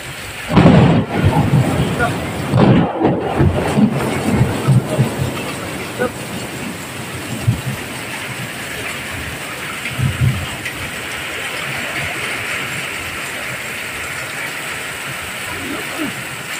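Heavy rain pours during a storm that leaves people stranded, with a steady hiss of downpour. Deep thunder rumbles roll in near the start and again partway through.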